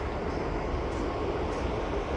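Unit train rolling past at close range, a dense, continuous rumble of rail noise with no break and no voices.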